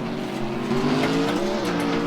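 Race cars in Assetto Corsa rev hard at the start line and pull away, their layered engine notes rising together in a loud, continuous roar.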